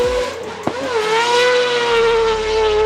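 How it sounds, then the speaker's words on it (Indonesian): A Mazda RX-7 rotary engine revs hard to high RPM, a loud, sustained, rising buzzing wail held close and steady throughout. "karakter mesin rotari yang bisa berputar hingga RPM tinggi dengan suara khas yang"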